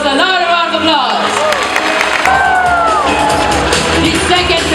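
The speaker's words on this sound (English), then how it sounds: "I think Vega deserves another round of applause." Audience at an outdoor bird show at Jurong Bird Park cheering, whooping and clapping together in a loud continuous burst, with a presenter's voice and crowd voices mixed in throughout.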